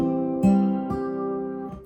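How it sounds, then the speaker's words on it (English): Acoustic guitar is fingerpicked, with a bass note struck three times in a row as an accent under ringing higher strings, a short, soft phrase played alone without talk. "there's a kind of like a triple hit accentuation on the bass"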